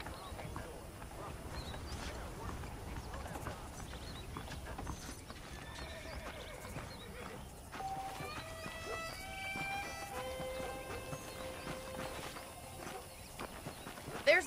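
Horse hooves clip-clop in a Western-frontier video game ranch scene, with a horse whinnying partway through; people talk over the steady, moderately quiet hoofbeats.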